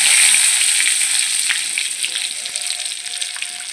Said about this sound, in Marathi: एक करूया आपण लसणाचा तडका.